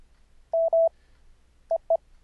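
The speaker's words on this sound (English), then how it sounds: "what you're hearing is Morse code audio tones" Morse code audio tones: short clean beeps at one steady pitch, two longer ones in quick succession followed by two brief blips after a pause, close and clear against near silence.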